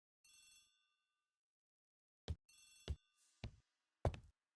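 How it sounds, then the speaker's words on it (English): An old-style telephone bell rings in a hallway in an Agatha Christie mystery game: one short ring, a pause, then several sharp, loud bursts of ringing close together, with no voices. "The telephone in the hall is ringing."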